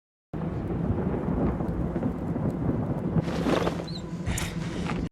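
Thunder rumbles in a stormy Game of Thrones scene, a deep continuous roll with wind and rain noise, swelling into brighter crackling gusts near the end.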